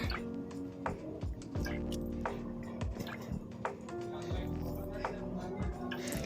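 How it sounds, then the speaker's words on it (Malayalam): Olive oil pours and drips into a container with soft wet glugs and splashes, close by, under steady background noise. "നമ്മളടുത്ത ഒലീവ് ഓയിൽ ഒഴിക്കുകയാണ്."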